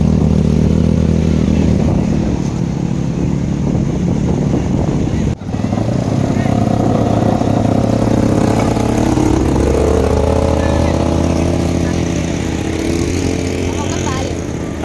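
Small motorbikes give children rides at a seaside beach, with a steady mid-pitched engine drone running throughout, briefly revving, while people talk over it.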